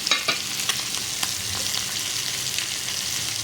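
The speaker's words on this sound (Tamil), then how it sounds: "இது பொரிச்சிட்ருக்கோம்." Fish frying in hot oil, a close, steady crackling sizzle with sharp popping spits throughout, no talking.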